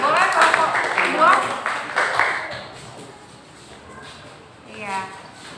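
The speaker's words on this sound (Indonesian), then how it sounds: "kasih tepuk tangan dulu untuk kelompok 2 ya" A classroom of students clapping for a group of classmates, a dense burst of applause from many hands that fades out after a couple of seconds, with voices talking over it.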